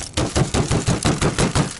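Rapid, evenly spaced metallic hammer blows on frozen RV metal, about eight in quick succession, sharp and close.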